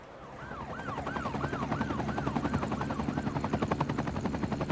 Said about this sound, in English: I think this is our first helicopter.